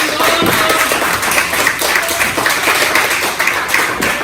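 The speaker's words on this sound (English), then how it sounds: "The crowd now cheering." Wrestling arena crowd at a pro wrestling event cheering and clapping in a dense, steady roar of applause and shouts, loud and close throughout.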